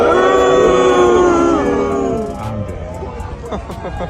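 Dense crowd of Ryder Cup golf spectators yelling and jeering at Rory McIlroy, a loud continuous roar of overlapping shouts that thins into scattered cries and chatter.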